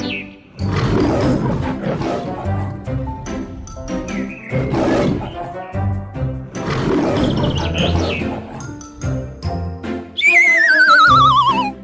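A lion's roar from a children's phonics alphabet lesson rings out loud and broad for about ten seconds in several swelling bursts, then gives way to a bright rising-and-falling whistle-like tone at the end.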